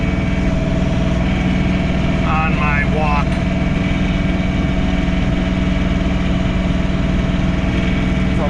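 A John Deere 3046R compact tractor runs steadily while snow blowing a driveway and walks, a loud constant engine drone with the blower's roar, and someone speaks briefly over it.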